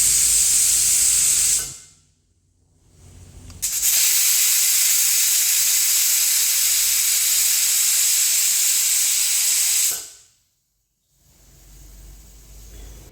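Pressure cooker cooking chicken curry, loudly hissing and whistling as it vents steam in two long bursts separated by brief near-silence, a sustained bright rushing jet close to the listener.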